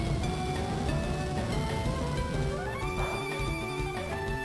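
Horse whinnies and neighs from a stomping attack in Pokémon FireRed, over a dense, steady wash of synthetic game audio, with a rising tonal sweep partway through.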